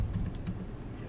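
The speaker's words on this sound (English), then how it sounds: "not the spacebar but the enter key, because we're typing numbers" A single key press on a computer keyboard while entering numbers in AutoCAD, a soft click heard close up and alone in a quiet room.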